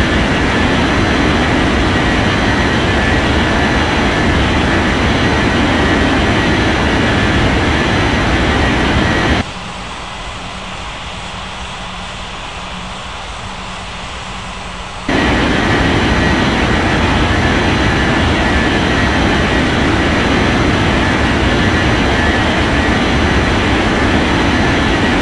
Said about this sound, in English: Southwest 7559, ready for takeoff runway 36.